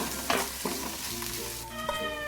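Curry leaves and garlic fry in hot oil for a Kannada country-chicken curry, giving a dense, steady sizzle close up with brief crackles and stirring scrapes. No speech is heard.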